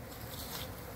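Honey bees buzz around leftover harvest remnants outdoors on a windy day, a dense steady hum of many insects, faint and continuous.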